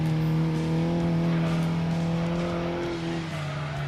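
An Opel four-wheel-drive race car drives in Gran Turismo 2, its engine holding a loud, steady droning note with a slight shift in pitch near the end, close and alone.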